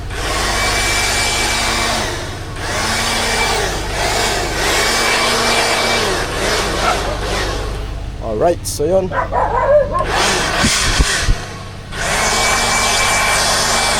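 Cordless vacuum blower running loud and steady with a constant whine, cutting out briefly near the end before restarting, while someone talks over it during a cleanup of a bamboo nipa hut.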